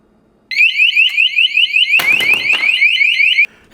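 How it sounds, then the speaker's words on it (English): A METAK window and door alarm shrieks loudly and continuously for about three seconds, a piercing warbling tone, briefly joined by a clattering knock midway before cutting off abruptly. "the alarm makes a loud sound until it's closed again"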